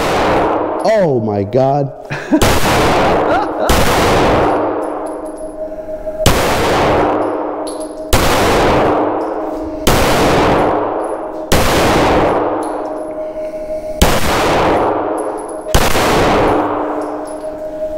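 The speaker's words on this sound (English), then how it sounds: "9 rounds of 9mm at the Kimber Rapide." A Kimber Rapide 9mm pistol fires a string of sharp, loud shots at a steady spaced rhythm, each crack ringing with a metallic clang, after a brief exclaimed voice at the start.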